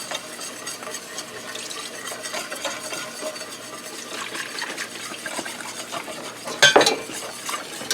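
Milk stirred by hand into a flour and oil roux for cream gravy, a steady soft scraping and swishing with light utensil clinks, ending in a brief louder clatter near the close.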